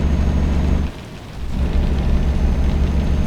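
Steady rain pours in a Euro Truck Simulator 2 driving scene, a dense wash of noise over a low truck engine rumble that dips briefly near one second before resuming at full level.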